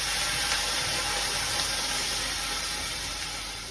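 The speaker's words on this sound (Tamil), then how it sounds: "நல்லா தண்ணி கொதிக்குது." Water in a pan coming to a boil for rice upma, a loud, continuous bubbling hiss close to the microphone that eases slightly toward the end, with no talking.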